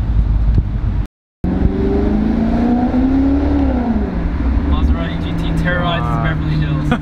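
A Maserati GranTurismo MC engine revs loudly close by in Beverly Hills, its pitch rising and falling through several pulls, with a voice speaking over it and a brief dropout early on.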